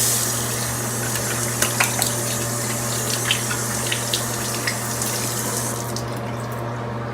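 Running water at a sink or tap, used to wet hair before twisting it into goddess twists, flows steadily and close by with a few small splashes and drips, alone without talk.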